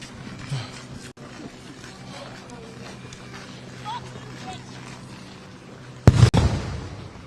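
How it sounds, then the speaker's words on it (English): Booms of likely flashbang grenades go off during a street clash with tear gas in the air, a loud burst of blasts near the end after quieter crowd noise and talking. "You hear those booms that are likely flashbang grenades going off."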